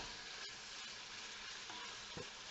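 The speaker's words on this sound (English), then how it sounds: "Give it a good stir after it's been sitting." Pork for chile verde frying in a pan makes a steady, quiet sizzle, with a few scraping knocks as it is stirred. The sound is close and continuous, with no voices.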